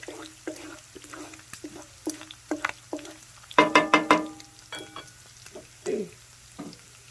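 A utensil scrapes crispy bacon to the side of a frying pan in a series of short, clattering pushes over a steady background sizzle, with a louder cluster of scrapes midway.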